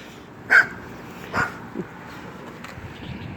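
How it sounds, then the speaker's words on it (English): Small dog giving a few sharp, isolated yips and barks at a moderate distance, spaced out over a few seconds against a quiet background hum. "Cute little dog."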